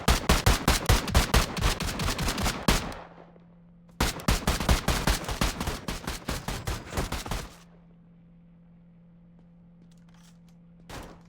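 Video game shooter gunfire in two loud, rapid bursts of automatic shots, each lasting a few seconds with a short silent gap between them, followed by quiet hum and one faint isolated thud near the end.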